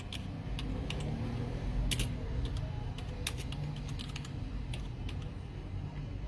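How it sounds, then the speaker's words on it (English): Computer keyboard typing out a business name in a search box, a series of light, close key clicks in quick irregular bursts over a low steady background hum. "Right there, you press it and then you want to type the business name"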